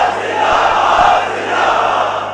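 A large crowd at a Friday prayer gathering chants religious slogans in unison, a loud, dense roar of many voices rising and falling together across the short stretch.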